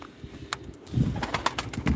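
Pigeons coo in soft, low bursts up close, with brief flutters and a few sharper bird calls mixed in over two seconds.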